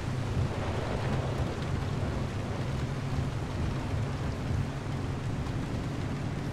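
Steady rain hisses and low thunder rumbles around a car being driven in the video game Pacific Drive, a dense, continuous wash of noise with no speech.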